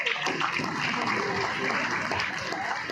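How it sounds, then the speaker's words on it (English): Audience applause at a school annual day prize-giving, a dense steady clatter of many hands clapping throughout, fairly near and even in level. "Let's give them a round of applause for its work"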